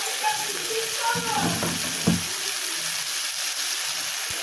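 A fish head and water lily curry with ghee sizzles steadily in a pan while it is stirred, and a faint voice murmurs underneath the constant frying hiss.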